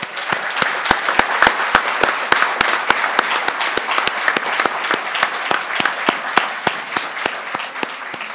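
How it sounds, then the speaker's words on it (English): Audience at an economics graduation commencement ceremony applauding the graduates, a steady wash of many hands clapping with sharp, regularly spaced louder claps standing out, sustained for several seconds at moderate loudness. "Let's give them a well-deserved round of applause."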